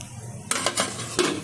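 A metal lid set onto a kadai of mangoes boiling in water on the stove, giving a few short clinks and knocks spread over about a second, fairly close and with no talk.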